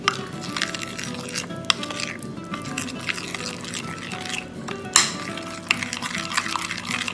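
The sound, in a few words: mixing chicken marinade ingredients in a bowl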